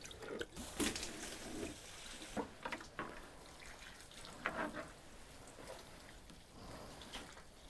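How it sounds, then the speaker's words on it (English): A small amount of water is poured into plant pots, faint trickles and splashes in short irregular bursts against a quiet background. "So I'm going to add a small amount of water."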